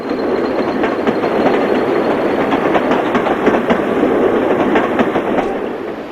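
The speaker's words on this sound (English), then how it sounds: "4196 heads south at Selby on the 26th of April 1975, presumably heading for Doncaster." A British Rail Class 40 diesel locomotive heading south through Selby, a loud, continuous rumble with rhythmic clicking of wheels over rail joints, close by and steady throughout.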